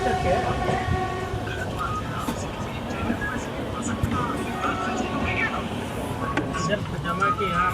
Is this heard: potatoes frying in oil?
no